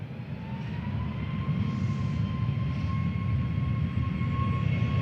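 A Ryanair airliner on a flight to Brussels at Manchester Airport makes a steady, loud jet engine roar that holds evenly throughout, with a faint high whine running over the broad rumble.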